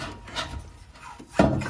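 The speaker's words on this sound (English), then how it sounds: "to get these isolators off, you can use a screwdriver and some penetrating fluid" A screwdriver pries rubber exhaust isolators off a Toyota Tacoma during a cat-back exhaust install, making a short scraping, rubbing struggle close by, ending in a louder, sharper scrape as the part gives.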